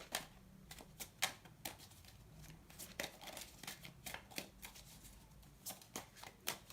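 Tarot cards shuffled by hand, a soft close riffle and flutter that comes in repeated short bursts with small pauses between them, quiet and with no talking.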